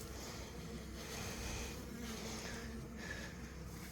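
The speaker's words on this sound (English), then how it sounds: "There's a lot of wasps coming out," Wasps buzzing around and out of a Layens bee hive under attack by robbing wasps, a steady dense drone of many insects close by, faint wind in the background, no talking.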